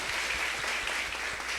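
A church congregation applauds in a dense, continuous wash of clapping that stays loud and even throughout.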